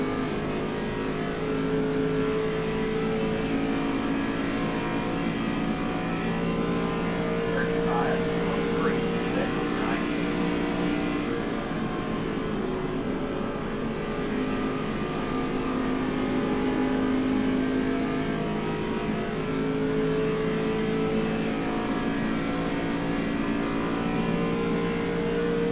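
Engine drone of an ARCA stock car in a racing video game, a steady loud hum with tonal bands that shift in pitch as it runs, continuous for the whole stretch with a faint voice at times underneath.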